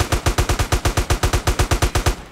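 Rapid automatic gunfire in the video game GTA San Andreas, about twenty evenly spaced shots in a steady burst, loud and close with no voices.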